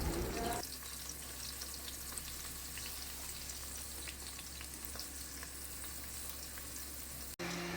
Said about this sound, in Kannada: ಆ್ಯಂಡ್ ಎಣ್ಣೆ ಬಿಸಿ ಆದಮೇಲೆ ಚಾಪ್ಡ್ ಈರುಳ್ಳಿನ ಹಾಕಿ